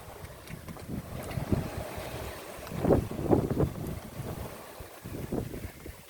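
A sailboat's sail flaps in strong wind at sea, gusting rumbles and irregular fluttering bursts over steady wind noise buffeting the microphone, with water washing faintly beneath.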